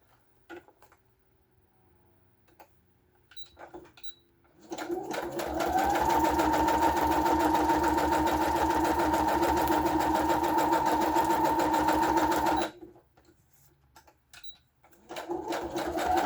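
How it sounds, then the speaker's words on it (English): A sewing machine zigzag stitches around the edge of a book-page journal card, running steadily for several seconds in one sustained burst, starting and stopping cleanly, close and fairly loud. "I zigzag stitched around the edge"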